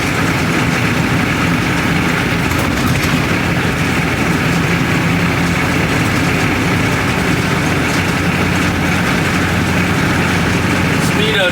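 A 1982 K5 Blazer diesel engine runs steadily throughout during a test drive, a loud, continuous low rumble with drivetrain and road noise and no breaks.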